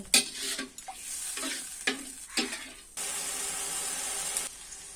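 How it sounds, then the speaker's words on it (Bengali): Spices stir-fried with a little water in a pan for snakehead fish bhuna curry: repeated spoon scrapes and clatters over sizzling, then a sustained louder hiss as water hits the hot pan, no voices. "জল দিয়ে মশলাগুলো আবারও ভালোভাবে কষিয়ে নিব।"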